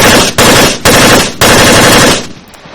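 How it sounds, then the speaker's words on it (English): A machine gun fires in long, loud automatic bursts in the Arma 3 mod, three rapid strings of shots separated by short gaps, the last one trailing off into an echoing tail. "If you start shooting a gun, of course I got to reload it."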